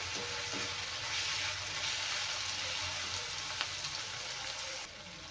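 Tomatoes softening in hot oil in a pan for a vegetable dish, a steady, fairly quiet sizzle that carries on evenly and drops slightly at the end.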